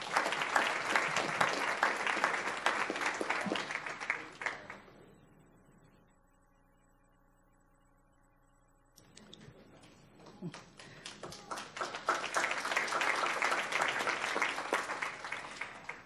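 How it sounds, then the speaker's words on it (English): An audience at a Palm Beach County school awards event claps loudly, the clapping dies into a quiet stretch with a sustained tone, then a second round of applause swells back up. "Let's give him a round of applause."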